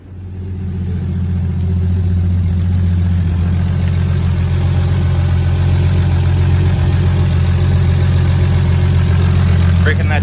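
A Toyota Supra built to 730 whp starts for the first time after turbo and downpipe work, then settles into a loud, steady, deep idle that runs to the end, heard close.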